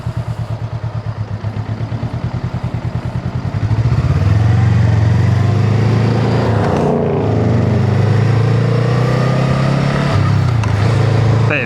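A Honda Rebel 500 motorcycle engine thumps close and loud while riding, first a pulsing low idle-like putter, then a steady rising drone as it pulls away, with a brief dip in pitch partway through; no voices.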